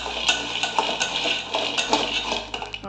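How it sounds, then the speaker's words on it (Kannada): Peanuts roasted and stirred in a pan, a spoon scraping and clinking against the metal in quick repeated strokes, close and fairly loud with no talk. "ಅದು ಕೆಂಪು ಉರಿ ಬರುವ ತನಕ ಕಡಲೆ ಬೀಜವನ್ನು ಹುರಿಯಬೇಕು"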